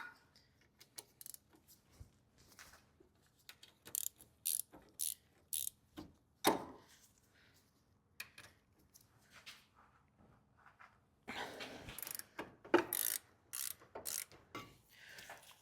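A ratchet works loose the brake caliper bracket on a Jeep JK rear axle, with bursts of quick clicking strokes separated by pauses and a few metallic clanks, close and fairly quiet.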